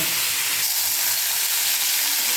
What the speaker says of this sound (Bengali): এরপর সবজিটাকে একটু ভেজে নেবা, তাই তো?